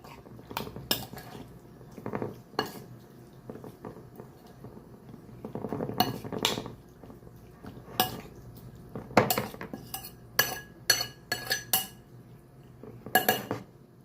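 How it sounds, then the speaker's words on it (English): A metal spoon clinks and scrapes against a pot of pork and string bean fried rice in irregular bursts, with short quiet gaps between the stirring strokes. "I'll give this a stir."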